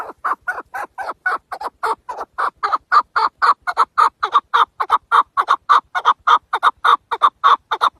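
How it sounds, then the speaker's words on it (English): A Chukar partridge calls among rocks and snow in the mountains, a steady, rapid series of clucking chuk notes repeating about three times a second, loud and close with nothing else heard. "sweet voice of the Chukar bird, singing proudly among the rocks and snow."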